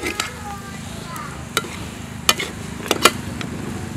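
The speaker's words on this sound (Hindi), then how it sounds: "पनीर डालकर हम हल्के हाथ से चलाएंगे" A spoon gently stirs crumbled paneer into a spiced stuffing for bharwa chichinda (snake gourd) in a kadhai, soft scraping with a light sizzle and a few sharp clinks of utensil against the pan.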